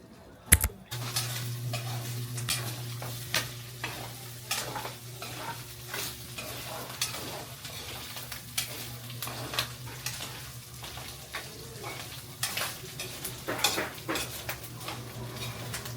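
Mung beans and dried fish are stirred and fried in a pan, a soft continuous sizzle broken by frequent clicks and scrapes of a utensil against the pot, with a low hum underneath; no talking.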